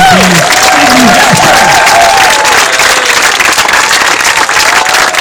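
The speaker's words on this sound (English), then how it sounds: "would you give her a round of applause?" Loud, close audience applause at a campaign event, dense continuous clapping from a large crowd with a few cheers and shouted voices rising over it.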